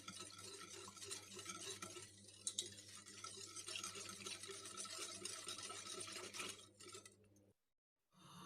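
A spoon stirs a mixture of sugar, oil and salt in a pot with soft scraping and occasional clinks, close and quiet, ending abruptly.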